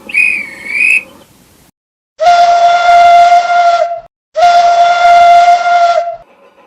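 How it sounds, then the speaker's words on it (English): A steam locomotive whistle blows loudly and nearby in two long, steady blasts with a brief pause between, after a shorter wavering tone. "Then, he heard a whistle."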